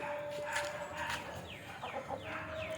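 Country chickens cluck and squawk in short repeated calls while being fed bran in the evening, moderately close, over a steady background hum with a faint whistle-like tone.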